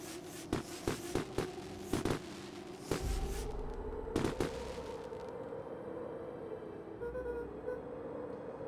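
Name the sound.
fireworks going off in a video game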